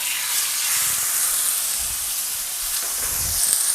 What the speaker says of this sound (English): That sizzle is awesome.